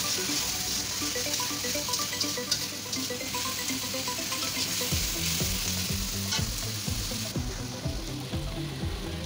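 Ginger and garlic sizzle steadily in hot oil while a utensil stirs through them, a loud, continuous frying hiss with scraping and tapping stir strokes throughout, no voices.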